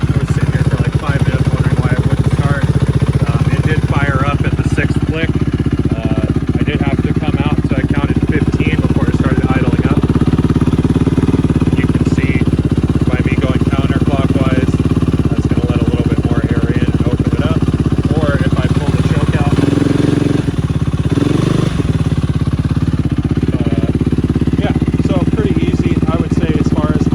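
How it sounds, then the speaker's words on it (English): Yamaha YFZ450 quad engine idling steadily up close, a loud, continuous low rumble with an even mechanical beat that holds throughout, with a brief dip near the end. "Alright, so I've got the quad fired up here."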